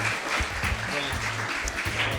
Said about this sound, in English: Have a round of applause for Alistair.